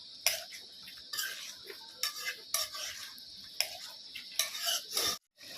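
A dish with jaluk (black pepper) being stirred and mixed in a pot, a series of sharp metallic scrapes and clinks of a spoon in repeated bursts, close and fairly clear.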